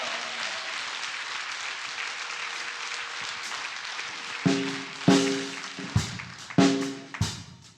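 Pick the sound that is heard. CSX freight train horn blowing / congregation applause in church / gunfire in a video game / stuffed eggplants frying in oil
congregation applause in church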